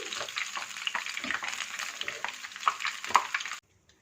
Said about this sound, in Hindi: ऑयल गर्म था, ये 3 मिनट के अंदर फ्राई हो गया है